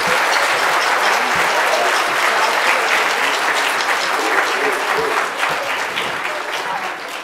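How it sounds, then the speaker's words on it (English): A school auditorium audience at a middle school fall band concert bursts into loud, sustained applause, dense clapping that holds steady and only slightly fades toward the end. "Please give them another round of applause,"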